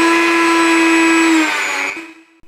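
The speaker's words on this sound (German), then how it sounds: "Man kann das Schleifpapier bei Plastik auch als Trennscheibe misshandeln" A Dremel 4000 rotary tool fitted with sanding paper grinds into plastic, a loud steady high-pitched whine that drops in pitch as it bites, then spins down and cuts off near the end.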